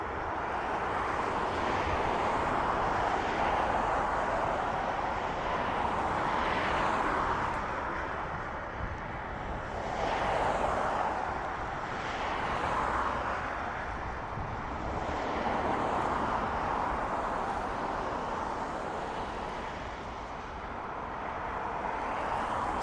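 A jet aircraft at Dublin Airport gives a loud, continuous broadband roar that swells and fades gently throughout, with wind buffeting the microphone.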